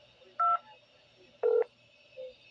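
A telephone voicemail system sounds short electronic tones before recording begins: two loud, clean beeps about a second apart, then a fainter third one.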